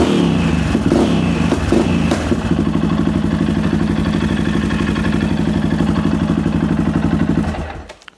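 A Yamaha XT660Z Ténéré single-cylinder motorcycle idles steadily and loudly up close after a spark plug change, a rapid even thumping that runs for several seconds before cutting off.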